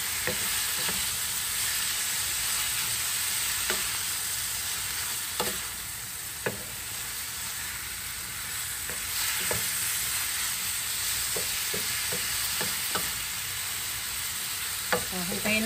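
Igado, pork and liver pieces, sizzles steadily in a pan, with repeated sharp clinks and scrapes of a utensil stirring at irregular intervals; no one speaks.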